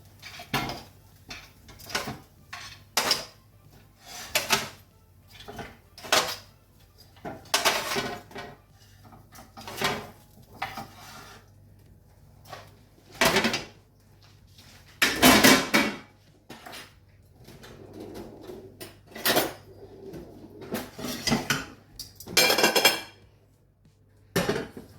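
Cooked, slightly crisp smoked turkey wings are moved into a pan with a run of sharp metallic clanks and cutlery knocks, irregular and close, some louder bursts among quieter taps, and no voices.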